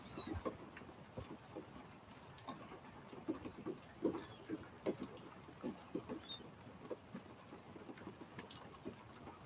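Steady patter of hurricane rain in southwest Georgia with scattered drips and taps, moderately close, continuing without pause and with no voices.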